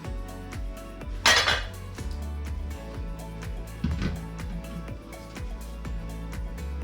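A skillet on a butane burner set to medium high is handled with repeated metallic clinks and knocks of pan and utensil, one louder rattling scrape early on, close and without talk.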